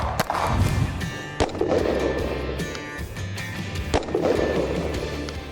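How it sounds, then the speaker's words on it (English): Several sharp, loud gunshots from a Kimber R7 Mako 9mm subcompact pistol ring out at an irregular pace, each with a short echoing tail over low background noise. "So let's shoot a few rounds through it"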